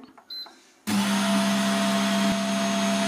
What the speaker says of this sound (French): Je démarre le mode pétrissage.